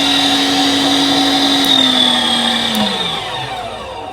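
500 watt meat grinder working through 3.5 pounds of beef chuck, a steady close motor whine that holds even, then slowly drops in pitch toward the end as it winds down, with no voices.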